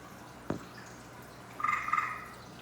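Gray tree frog calling in an indoor natives room, heard as a short, faint burst of rapid trilled notes after a single soft knock, against a quiet background hum. No one speaks.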